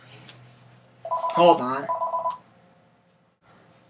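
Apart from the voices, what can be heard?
telephone ringing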